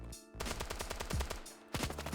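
Rapid bursts of automatic gunfire from a Counter-Strike style shooter game, loud and close, in two dense volleys separated by a brief pause, with no talking.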